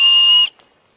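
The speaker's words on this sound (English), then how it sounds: "Can be a whistle." A single short, shrill whistle blast, loud and close, cutting off abruptly after half a second, followed by near silence.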